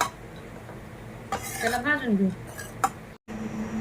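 A utensil clinks and scrapes against a pan while something roasts in a little ghee, with metallic knocks scattered through and a short stretch of voice in the middle.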